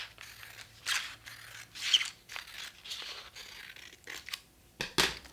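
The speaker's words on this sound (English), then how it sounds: "Then I can take scissors and simply cut it along the line." Scissors cut along a drawn line through a printed sewing pattern sheet, giving soft crisp snips and paper rustles in an irregular rhythm, close but fairly quiet.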